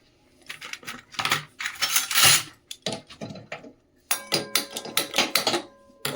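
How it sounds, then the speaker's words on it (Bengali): A kadai (wok) set down on a gas stove in a home kitchen, a run of sharp metallic clanks and scrapes in irregular bursts, close and fairly loud, with no talking. "চল কড়া বসিয়ে দিই।"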